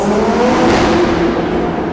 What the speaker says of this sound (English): It's actually my first time redlining this car.